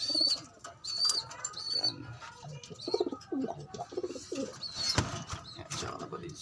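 Domestic pigeons coo in soft, repeated throaty phrases close by, with scattered chirps and a brief wing flap, while a person talks intermittently over them.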